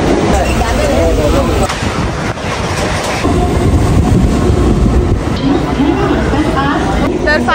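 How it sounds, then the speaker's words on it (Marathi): A local train arrives at a station near Nalasopara, its loud continuous rumble and wheel clatter filling the platform while people chatter in the background. "तर चला मित्रांनो, आमची पण ट्रेन आलेली आहे."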